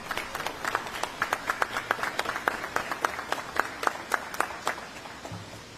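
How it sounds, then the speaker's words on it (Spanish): A press-conference audience at a presidential briefing in Costa Rica applauds. The clapping is moderate and fairly dense, with quick claps over a soft background murmur, continuing steadily to the end. "un aplauso para ellos por haber venido hoy"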